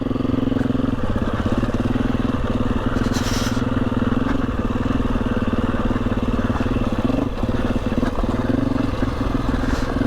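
A motorcycle climbing a steep, rocky off-road track on an old coach road in the Lake District labors in second gear with a loud, steady engine drone and occasional clatter, heard close throughout.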